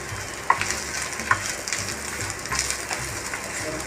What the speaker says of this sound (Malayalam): പിന്നെ കുറച്ച് നാളികേരം ചെറുകിയത്. ഇത് ഫ്രൈ ആവട്ടെ.